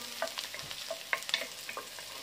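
Garlic being stirred and sautéed in a pan, quiet sizzling broken by sharp scraping and clinking of a utensil against the pan at irregular moments.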